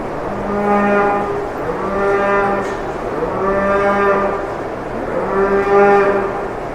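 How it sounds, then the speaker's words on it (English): Dairy cows gathered by the gates at milking time on a large dairy farm moo in long, low, overlapping calls, several in a row, loud and close with no talking. "you can tell it's milking time, because there's a number of cows literally congregating right up here by the gates"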